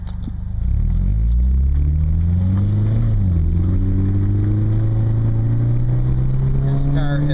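A Toyota car with a TRD exhaust accelerates steadily, its engine note rising through the gears in a smooth, droning hum heard from inside the cabin, with a brief dip and climb midway.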